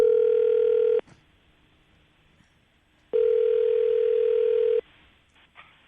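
A telephone ringback tone sounds twice while a call is placed, each a steady buzzing tone lasting one to two seconds with a quiet pause between. The tones are loud and clear, and no one talks.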